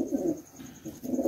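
Domestic pigeons kept as a breeding pair give low, throaty coos in two rounded bursts separated by a short pause, close by and fairly loud with no voices.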